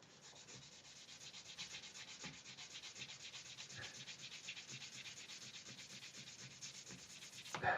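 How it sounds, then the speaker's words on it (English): Guitar frets on a handbuilt Telecaster are rubbed with 2400-grit charcoal, giving a soft, steady sanding scrape that keeps going quietly throughout. "2400 charcoal, loved by artists, backyard chefs, and Luthier's polishing frets"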